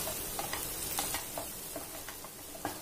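A spatula scrapes and stirs raw banana and drumstick pieces coated in turmeric and red chilli powder in a pan, with soft, quiet scraping and light taps over a faint sizzle.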